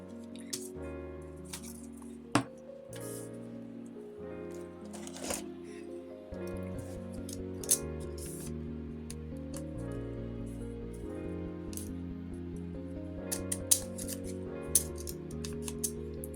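Scissors snip paper while someone decorates a diary, a series of sharp close cuts and small rustles over a quiet music bed, with occasional soft handling clicks.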